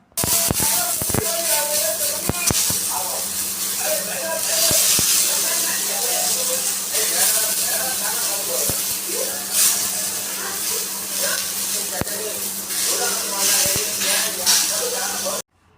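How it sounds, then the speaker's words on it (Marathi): Onion frying in a little oil on a hot griddle gives a steady soft hiss and sizzle with occasional sharp crackles, heard close up under quiet speech in a home kitchen. "मी तव्यावरती लगेच कांदा टाकून घेतला तर कांदा पण ना अशा प्रकारे थोडंसं लालसर होईपर्यंत भाजून घ्यायचं"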